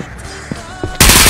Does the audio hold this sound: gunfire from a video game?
yes